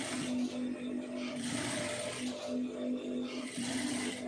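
Sewing machine stitching a second seam on a blouse neck design, a close, steady mechanical whirr with a humming motor and brief uneven pauses in the running.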